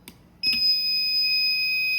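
A TC Mini TS & KS control board buzzer sounds during remote registration: a faint click, then a sharp, continuous high-pitched beep that holds steadily to the end.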